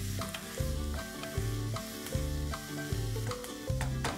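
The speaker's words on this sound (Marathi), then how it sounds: "थोडासा कांदा मऊ होऊन द्यायचा आहे" Finely chopped onions with salt frying in a pan until soft, a quiet, even crackling sizzle punctuated by regular spatula strokes and taps roughly every half second, close and free of talk.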